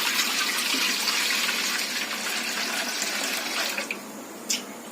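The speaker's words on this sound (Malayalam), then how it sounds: "നമുക്കിനി ആദ്യം തേങ്ങാപ്പാല് അലുവ ഉണ്ടാക്കുന്ന പാത്രത്തിലേക്ക് ഒഴിച്ചു കൊടുക്കാം" Coconut milk poured into a pan for a beaten-rice and coconut halwa, a steady close liquid rush that runs without pause and thins slightly toward the end.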